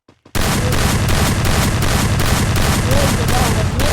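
Dense, continuous gunfire from a shooting video game, rapid overlapping shots and bursts filling nearly the whole stretch after a brief quiet start, loud and sustained.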